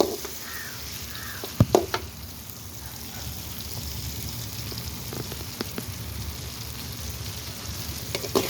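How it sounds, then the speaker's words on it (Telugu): Onion, tomato, green chili and coriander fry in oil for an egg curry, giving a steady close sizzle throughout with a few sharp clinks of a spoon against the pan. "టమోటో పచ్చిమిర్చి కొత్తిమీర ఆయిల్ అన్నీ వేసుకొని వేయించుకుంటున్నాను బాగా"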